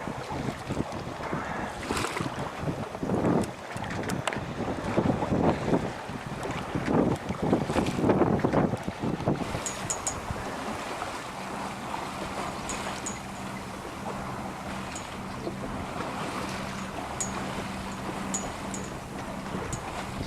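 A sailboat runs under sail on a southerly breeze beneath overcast skies, wind buffeting the microphone and water rushing along the hull steadily throughout, with a low droning hum joining in the second half.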